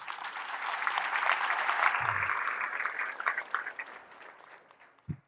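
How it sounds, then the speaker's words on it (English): Audience applause fills the room in a dense wash of clapping for about three seconds, then thins out and fades, ending with a brief thump. "Round of applause, round of applause."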